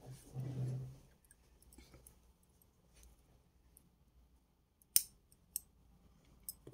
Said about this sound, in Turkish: Şimdi şu telim fazlasını bir keselim.